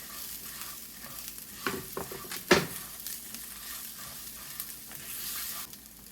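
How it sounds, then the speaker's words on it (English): A single garlic clove frying in a pan for a savory chicken and rice dish: a close, crackling sizzle with stirring scrapes and one sharp clank midway. "I'm going to add in 1 clove of garlic to this, and just for maybe 30 seconds, just to let it get fragrant"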